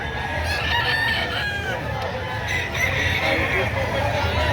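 A rooster offered for sale at a market crows several times nearby, with hen clucking and a babble of people talking around it.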